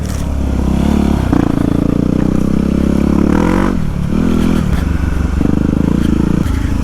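A dirt bike engine chugs loud and close as it pushes through deep swamp mud, revving and bogging in uneven surges with a rough mechanical clatter.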